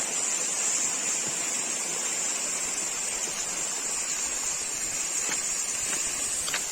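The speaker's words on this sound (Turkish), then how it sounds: "Karşınızda büyük şelale." Large waterfall heard as a steady, broadband rushing roar of falling water, constant and fairly loud, with no voices over it.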